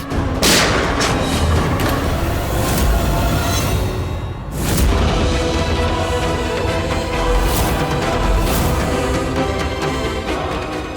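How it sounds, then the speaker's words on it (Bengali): Loud, dense bursts of gunfire and booming blasts, several sharp cracks standing out over a continuous noisy din. "আশেপাশে কেউ গুলি চালিয়েছে"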